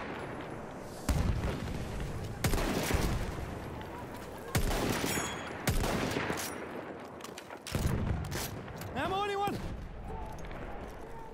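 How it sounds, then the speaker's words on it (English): Gunfire crackles in bursts in Battlefield 1 multiplayer combat, with repeated loud volleys and booms spread across the scene and a player's voice shouting over the firing. "Enemy machine gun!"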